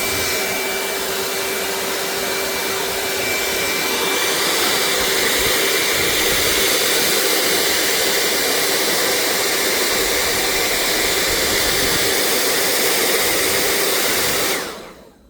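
A heat tool blows hot air onto a mold in a loud, steady, close-up whoosh that runs continuously before cutting off abruptly at the end.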